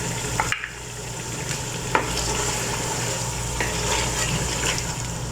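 Finely chopped ginger and tomato fry with spices in a pan for chicken chana pulao, giving a steady, close sizzle with a few light clicks of stirring.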